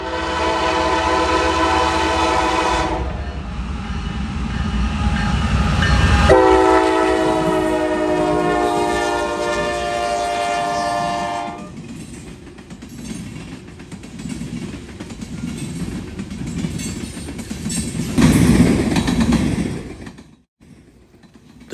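A long freight train rumbles past in southwest Ohio with steady wheel noise, a loud horn blast sounding early on, then continued rolling and clattering cars that fade out at the end.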